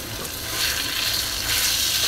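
Taro leaves tipped into a pan of already-fried onion and garlic, a steady loud sizzle and crackle of oil that swells slightly as the greens settle, with no voices.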